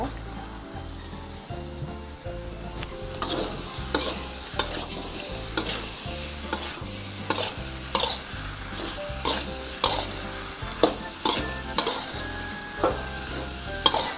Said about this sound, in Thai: คนให้ทุกอย่างเข้ากันให้ส่วนผสมมันเข้ากัน